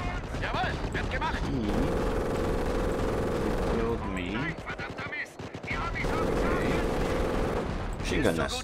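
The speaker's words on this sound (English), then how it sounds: "Machine gun nest." Machine gun nest firing in Company of Heroes during a trench defense battle, dense sustained bursts of rapid gunfire with explosions and other battle noise, continuous and loud apart from a brief lull in the middle.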